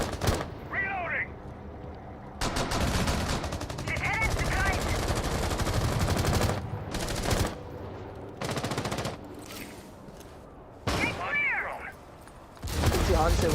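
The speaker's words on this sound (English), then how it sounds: "He's going to take a few shots from Hansai" Bursts of automatic gunfire in a tactical shooter esports match, several rapid volleys separated by brief pauses, loud and close, with a commentator talking over the shots throughout.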